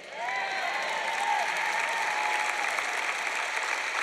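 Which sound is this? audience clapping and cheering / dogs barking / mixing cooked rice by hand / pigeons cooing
audience clapping and cheering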